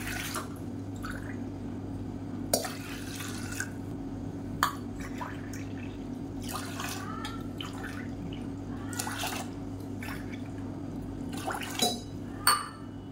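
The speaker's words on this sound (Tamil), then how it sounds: "இப்போ இந்த 1 டம்ளர் எடுத்ததுக்கு 6 டம்ளருக்கு தண்ணி ஊற்றிக்கலாம்." Water is poured into a ground black gram porridge mix, heard as soft intermittent splashes and drips over a steady low hum, with no talking.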